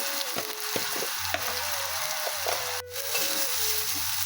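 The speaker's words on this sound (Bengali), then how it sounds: "এটাকে মা এবার একটু কষাবে, তাই তো?" A spice paste with salt for potato curry sizzles and spits in a hot pan, with the scrape of stirring and a low hum underneath, near and steady.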